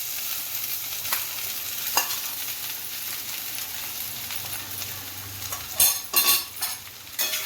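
Poha and peas frying in a pan for a Maharashtrian breakfast are stirred, with a soft continuous sizzle under occasional scrapes, then a burst of louder metallic spoon clanks against the pan near the end.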